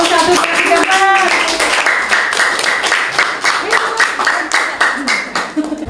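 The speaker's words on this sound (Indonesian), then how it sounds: "Tepuk tangan dulu untuk paslon 1, 2, 3," A school audience at a junior high student council debate in Jayapura claps for the candidate pairs, brisk uneven clapping that starts under a speaking voice and then continues on its own.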